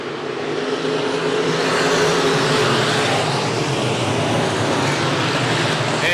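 SportMod race car engines fire up and roar at Buena Vista Raceway, a dense, continuous loud rumble of several engines blending with broad track noise, with no voices over it.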